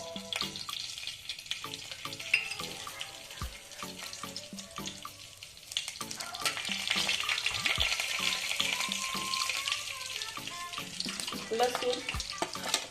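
Cumin and mustard seeds sizzle and crackle in hot oil for palak paneer, a steady frying hiss that grows louder and denser partway through, with scattered sharp pops and occasional clinks of a utensil.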